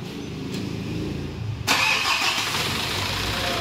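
Mitsubishi Strada 4D56 diesel engine, freshly overhauled, cranks briefly then catches and fires up, settling into a steady, loud, close idle with no talking.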